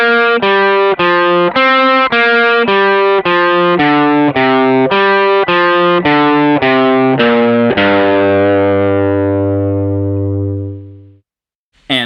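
Distorted electric guitar plays a pentatonic lick in G slowly, about a dozen separate evenly spaced picked notes, then a final note rings out and fades, loud and close with no talking.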